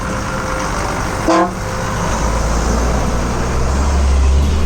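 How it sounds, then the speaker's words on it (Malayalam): A village bus in the forest hills near Kookal, Kodaikanal, gives a short, bright honk of a few quick toots, sounding loud and close over steady low engine rumble and road noise. "അവരുടെ ഒരു സന്തോഷത്തിൻ്റെ പ്രതീകമായിട്ട് ആ ഹോൺ അടിച്ചിട്ട് പോയതാണ്"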